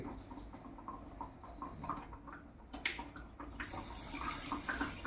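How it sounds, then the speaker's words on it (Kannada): Rice is rinsed in water for jeera rice, with close-up sloshing, swirling and splashing as grains are stirred by hand, then water running more strongly toward the end. "ಅದನ್ನು ನೀಟಾಗಿ 1-2 ಸಲ ಏನೈತಿ ನೀರು ಹಾಕಿ ಸ್ವಚ್ಛಗೆ ತೊಳ್ಕೊಬೇಕ್ರಿ."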